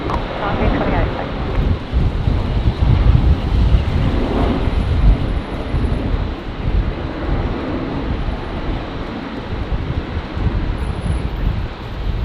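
An aircraft departing Brisbane Airport in gusty wind produces a loud, continuous broadband roar mixed with heavy buffeting wind noise on the microphone, swelling early and holding steady throughout.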